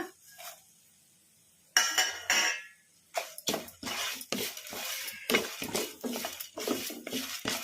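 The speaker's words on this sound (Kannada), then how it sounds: "ಈ ಥರ ಕಲಿಸ್ಕೊಂತಾನೆ ಫ್ರೈ ಮಾಡ್ಕೋಬೇಕು" Cumin seeds, curry leaves and coriander seeds being stirred and fried in a pan: a metal spoon scrapes and clinks against the pan in quick, busy strokes after a short quiet start, close up and with no voices.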